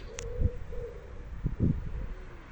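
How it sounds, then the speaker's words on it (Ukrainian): Soft cooing bird calls repeat a few times against a quiet outdoor background in Kremenets, Ukraine, with a faint higher chirp near the start. "Чуєте? Пташечки співають"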